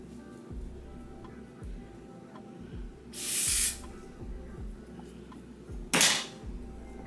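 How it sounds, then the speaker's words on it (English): Two short bursts of aerosol hair spray on a wig lace hiss close up, a few seconds apart, over quiet ticking background noise. "Okay, so I'm just gonna go ahead and spray."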